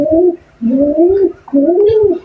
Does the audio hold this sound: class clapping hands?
no